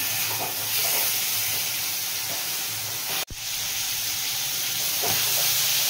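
Chicken pieces for butter garlic chicken fry in a pan with a steady, dense sizzle, close and loud, broken once by a brief sharp dropout before the frying hiss resumes.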